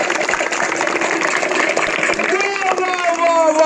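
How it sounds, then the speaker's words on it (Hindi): Children clap together as a group, a dense patter of applause that carries steadily throughout, with an adult voice speaking over the end. "तो बच्चा लोग बजाओ ताली"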